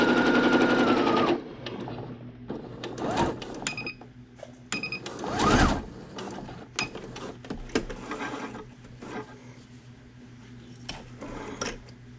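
A sewing machine stitches a hem along the bottom of a fabric adult face mask, running in a steady whir at first, then breaking into short bursts with clicks and handling noises between them.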